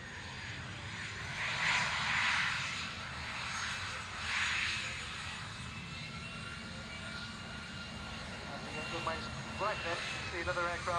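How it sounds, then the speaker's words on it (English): An A-10C Warthog jet rolls out at an air show, its engine whine and roar faint and distant, swelling twice and then settling into a steady drone under ambient crowd noise. "Captain Shetley then rolling out in the A-10C, the aircraft borrowed for the occasion from the 81st Fighter Squadron at Spangdahlem Air Base in Germany."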